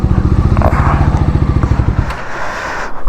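A motorcycle on a long road ride from Mumbai to Himachal Pradesh idles with a loud, steady throbbing close by, then the engine cuts off about two-thirds of the way through as the bike is parked in Solan.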